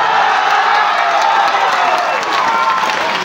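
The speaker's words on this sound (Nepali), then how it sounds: "ताली चलो मझिरे मझिरे बहुत जोश रे" A college audience clapping and cheering together, a loud sustained roar of applause with whoops mixed through the crowd noise.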